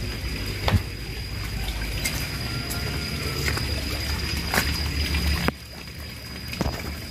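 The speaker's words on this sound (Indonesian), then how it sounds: "Kita lihat dari samping airannya cukup kencang, cukup deras." Water gushes hard from the outlet of a 4-inch PVC hydram pump into a fish pond, making a continuous splashing rush broken by occasional sharp knocks and thumps.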